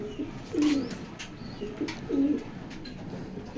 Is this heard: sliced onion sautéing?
no